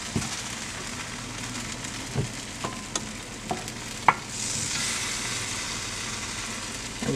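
Beef for a pepper steak stir fry sizzles steadily in a hot pan, a close, even crackling hiss broken by a few sharp pops and a clink or two of utensils, with a brighter surge of frying near the end.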